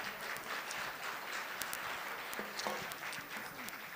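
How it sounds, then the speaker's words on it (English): Scattered audience applause after a youth month panel discussion, soft and fairly distant, a steady patter of claps with a few sharper hand strikes standing out over faint room noise. "Let's give them a round of applause."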